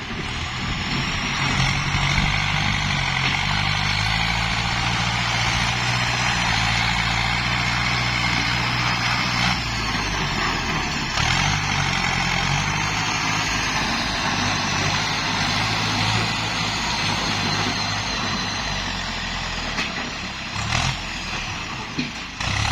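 A Ford tractor engine runs steadily throughout, a loud, close, low rumbling drone that holds an even pace with only slight changes in load.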